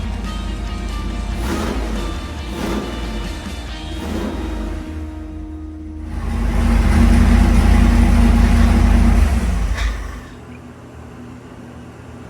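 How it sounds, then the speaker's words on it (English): A small block Chevy engine with a little ATM 750 gas carburetor idles steadily and loudly close by, a low rumble that swells louder for a few seconds before settling back. "The small block fired right up, and Bob set the ignition timing as well as the idle speed on the little ATM 750 gas carburetor."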